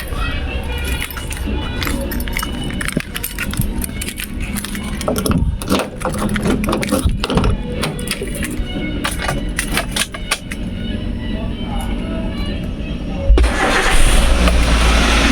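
A Toyota Avanza engine cranks and fires up just after a new car battery is fitted, catching near the end and settling into a loud, close running rumble after a quieter stretch of handling noises.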